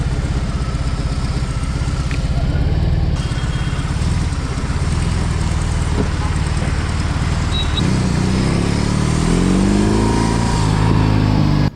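A BMW R18 Transcontinental motorcycle rumbles through busy Mumbai traffic, its heavy engine loud and continuous with a low throbbing tone, shifting pitch as it accelerates near the end amid surrounding road noise.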